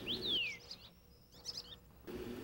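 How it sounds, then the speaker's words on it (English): Birds call in a mountain forest, a few clear chirps and a sweeping whistled note over a low outdoor hush, moderately near and without talk. "The forest here also has a powerful attraction for all kinds of birds that come here to nest and forage."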